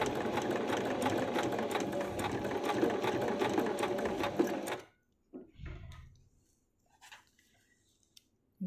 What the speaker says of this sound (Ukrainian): Піднімаємо лапку, ставимо тканину, прокладаємо строчку.